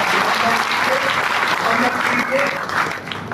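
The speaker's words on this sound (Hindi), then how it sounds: "एक बार जोरदार ताली बजाकर" Loud audience applause at the inauguration of a memorial dharamshala, sustained dense clapping that tapers slightly near the end, with voices faintly mixed in.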